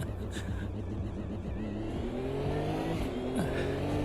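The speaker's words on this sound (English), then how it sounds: "Give me that transmission noise, sounds very funny." In a racing video game, a race car's transmission gives a loud, wavering whine that slides up and down in pitch over steady engine drone, with revving throughout.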